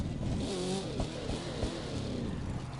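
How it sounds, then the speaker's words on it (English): Car engine in The Crew 2 driving game, a steady low droning motor with rising revs and some clatter, continuous and fairly close, no talking. "Got to turn the engine on"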